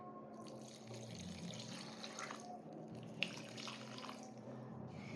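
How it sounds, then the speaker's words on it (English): Water mixed with fungicide poured onto the soil of a potted areca palm, a steady splashing, trickling stream running continuously at close range with one brief sharp knock midway, no voices. "So this is the mixture of water and the fungicide, so I'll add it here."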